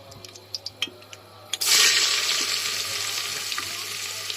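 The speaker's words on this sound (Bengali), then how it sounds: "তো পেঁয়াজটাও আমি একটু হালকা ভেজে নেব" Chopped onions drop into hot oil already seasoned with whole spices and bay leaves, after a few clinks, bursting into a loud, close sizzle that settles into a steady frying hiss.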